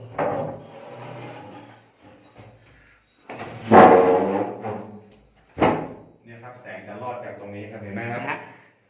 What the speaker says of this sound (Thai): นะครับปิดประตู